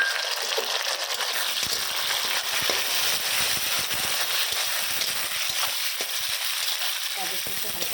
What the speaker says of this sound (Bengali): গাজরটা একটু হালকা ভাজা হোক